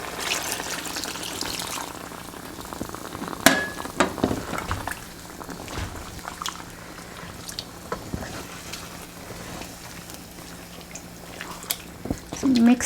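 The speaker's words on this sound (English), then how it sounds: "now we're adding water" Water poured into sizzling khada masala chicken in a pan, bubbling and frying hiss with scattered splashes and stirring clatter, loud and close, swelling near the end.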